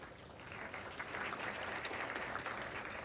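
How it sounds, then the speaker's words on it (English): An audience at a college Hall of Fame event claps steadily, and the dense applause swells slightly and then holds at a moderate distance for a few seconds. "So if we could do one more round of applause"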